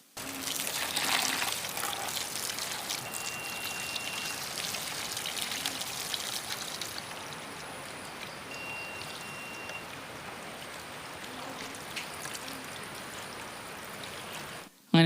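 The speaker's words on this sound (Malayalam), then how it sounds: "ഇനി ഇതെല്ലാം നമുക്ക് വെള്ളം ഉപയോഗിച്ചൊന്ന് കഴുകിയും കൂടി ക്ലീൻ ചെയ്തെടുക്കാം" Parts of a cheap portable media player are rinsed under running water, a steady close splashing stream that pours heavily at first and then settles into a continuous trickling flow.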